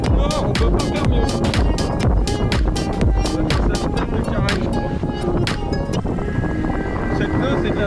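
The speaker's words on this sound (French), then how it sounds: "Là le vent s'est levé, on pense que c'est un thermique." Wind roaring steadily across a sailboat at sea near Cap Sicié, with broadband gusty rush and repeated sharp buffets against the microphone throughout, loud and continuous.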